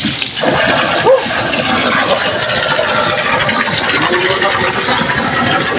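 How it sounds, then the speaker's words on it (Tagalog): Strong, steady gushing of water during cleaning of a well, loud and close, a continuous broadband rush with no pauses, much like a heavy flush or a pipe running at full force. "Malakas na tubig."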